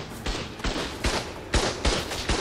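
Rapid gunfire in the video game ARK Survival Evolved during a winter event: about six sharp, loud shots at fairly even intervals over a couple of seconds, with no talk.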